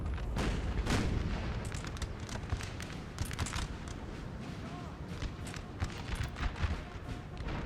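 Musket volleys and artillery fire boom in Napoleon Total War, a dense, continuous crackle of distant shots punctuated by heavier thumps, with a voice talking over the battle.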